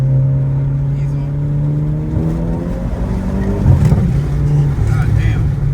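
A car engine revs hard in third gear, a loud, steady droning note that climbs in pitch, with a rougher surge partway through and voices talking over it.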